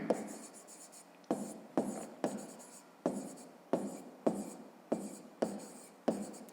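A pen writes by hand on notebook paper for a fifth-grade maths exercise, giving about ten close, crisp scratching strokes in a steady rhythm, each starting sharply and fading.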